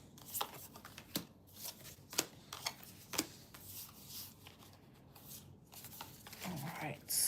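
A deck of tarot cards is shuffled close up, a series of quick riffling bursts and soft rubs with short pauses between, quiet and up front, while someone speaks.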